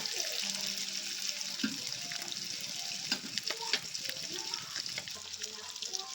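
Salmon fish pieces frying in a pan give off a soft, watery sizzle and crackle, faint and uneven, with scattered clinks of utensils throughout.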